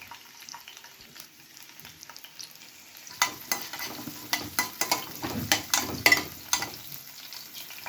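Fenugreek seeds, curry leaves and about ten peeled garlic cloves frying in hot oil for a vada kuzhambu: a soft steady sizzle, then close, repeated stirring scrapes and louder crackling bursts from the pan.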